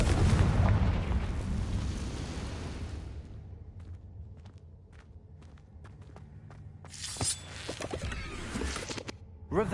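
A spell explosion in the Hogwarts Legacy game on PlayStation 5 lands as a loud booming blast that decays into quieter footsteps and small taps, followed by a fresh burst of crackling impacts.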